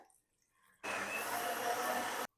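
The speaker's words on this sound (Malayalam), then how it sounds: "കുറച്ച് വെള്ളം ഒഴിക്കാം" Water pours into a blender jar holding cut fruits and vegetables for a health drink: a single steady, loud, splashing gush lasting about a second and a half, then stopping abruptly.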